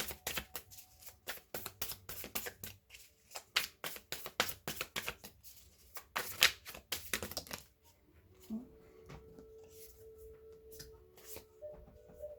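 Tarot cards are shuffled by hand in quick, crisp riffling bursts of snapping card edges close to the listener, stopping after several seconds and leaving a faint, quiet background.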